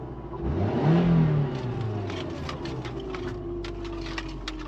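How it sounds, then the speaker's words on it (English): A Subaru Outback engine revs up with a rising power steering whine, then settles into a steady strained hum with faint clicking over the idle. "Ooh, it's the power steering. Do you hear that?"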